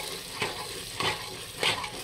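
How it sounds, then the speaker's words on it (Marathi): Peas and potatoes stir-fry in a pan, with a continuous sizzle and three scraping pushes of a spatula at a regular pace, close by and without voices. "वाटाणा बटाटा परतून घ्यायचे"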